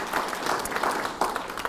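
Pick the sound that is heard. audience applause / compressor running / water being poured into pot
audience applause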